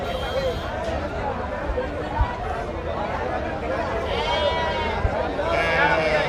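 Sheep and goats bleat repeatedly at the Hiriyur sheep and goat livestock market, close and overlapping, under constant crowd chatter and nearby voices.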